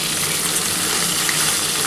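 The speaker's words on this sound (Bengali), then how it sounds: "মাছটা দু পিঠ ভাজা হয়ে গেলে আমি কিন্তু মাছগুলো তুলে নেব।" Katla fish sizzles steadily as it fries in hot oil, a dense, even crackle that holds close and loud throughout without any voices.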